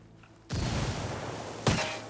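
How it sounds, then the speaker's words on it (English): Frag grenade explosion in the Ghost Recon Wildlands video game, a sudden heavy blast followed by a rumbling tail, then a sharp gunshot-like crack near the end. "And we're going to frag grenade the gate."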